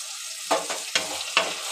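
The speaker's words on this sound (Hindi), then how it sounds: "इसको इधर उधर करके मिक्स कर दूंगी। मिक्स करना है इसको।" A spoon scrapes through potato brinjal sabzi in a sizzling pan, three or four distinct stirring strokes over a steady close frying hiss.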